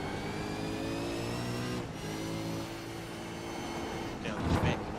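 A supercar at speed on a circuit during a flying lap, its engine note steady and loud with tyre noise under it, then a harsher burst of roar and scrub near the end.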